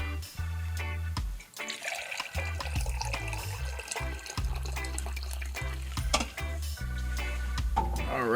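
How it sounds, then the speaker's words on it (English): Goji berry tea pours into a cup in short trickling bursts, close and fairly quiet, with small clinks and handling sounds between pours. "after I pour this tea"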